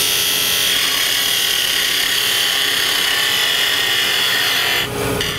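Wood turning on a lathe, a tool shaping and rounding a bead on a spinning workpiece; a steady, loud scraping and rasping hiss runs throughout without talk, then eases briefly near the end.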